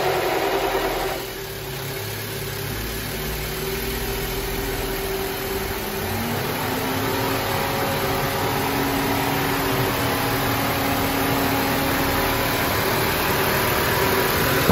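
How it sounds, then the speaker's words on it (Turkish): An Opel Astra J with a jump-start booster attached runs steadily at idle, its engine hum joined by the whoosh of the radiator fan, which runs constantly because its sockets are unplugged. The sound is continuous and close, with no talk. "Fan çalışıyor."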